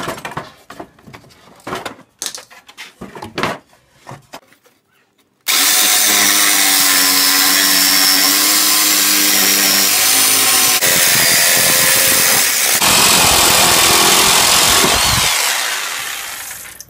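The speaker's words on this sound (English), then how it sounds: "we cut out the MDF pieces for the back." A power saw cuts MDF pieces while a saw bench is being built. A few sharp knocks and clatters come first, then the saw roars loudly and steadily for about ten seconds, close by, before it winds down.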